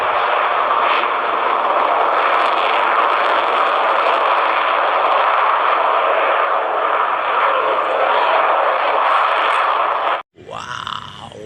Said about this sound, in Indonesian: Wih, pesawat air show.